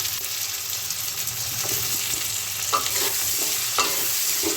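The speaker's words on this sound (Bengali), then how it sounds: "পেঁয়াজটা আমার হাফ ভাজা হয়ে গেছে। এরকম সময় আমি আলুগুলো দিয়ে দেবো।" Potatoes and half-fried onion frying in a pan, a steady close sizzle with scraping stirs and a couple of sharp clinks near the end, no voices.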